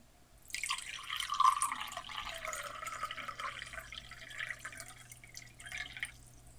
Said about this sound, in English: So let's fill some water up here.